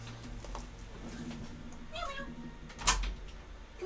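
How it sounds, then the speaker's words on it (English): A cat meows once, brief and fairly close, over a low hum of room sound during a tabletop Dungeons & Dragons session. "Oh, I hear a meow."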